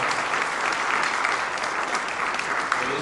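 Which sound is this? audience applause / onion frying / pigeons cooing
audience applause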